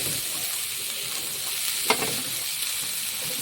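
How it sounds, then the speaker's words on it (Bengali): Chopped tomato and coriander leaves land in a hot pan for a peanut fritter curry, giving a steady close sizzle with a brief sharp clink near the middle, no voices. "আমি এর সঙ্গে দিয়ে দেবো টমেটো কুচি অর্ধেক আর দিয়ে দেবো ধনে পাতার কুচি অর্ধেক"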